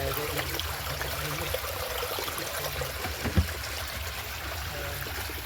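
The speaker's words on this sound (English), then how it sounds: "I like the waterfall." Garden koi pond waterfall with a vortex filter system, a steady close trickle and splash of falling water, continuous and alone with one brief louder plop.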